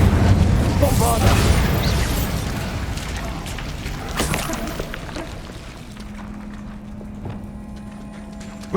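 A Bombarda blasting spell going off in Hogwarts Legacy, a loud booming burst with rumbling debris that fades over several seconds, followed by a low lingering hum.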